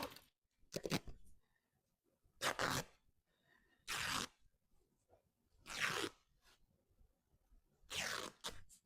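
Fabric being torn by hand into strips with frayed edges, thicker thrifted material, five loud broadband rips in a steady rhythm with quiet pauses between, close up and alone.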